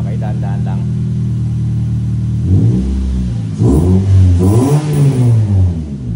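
The engine of a vehicle named Gray idles evenly and is then blipped in several rising revs while it is charging. The engine is loud and close, and voices can be heard alongside it.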